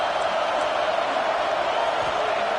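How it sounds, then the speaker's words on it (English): A stadium crowd roars steadily at an LSU vs Oklahoma playoff football game, a broad, loud, continuous wash of massed voices with no distinct breaks. "Listen to the crowd energy here in the early going"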